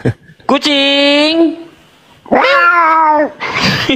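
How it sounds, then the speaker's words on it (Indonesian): A cat meows loudly and close up in two long, drawn-out calls, each lasting about a second, separated by a brief pause, followed by a shorter noisy sound at the end. "Kucing."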